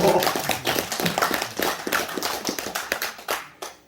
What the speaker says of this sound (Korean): 박수 한번 쳐주세요 이거.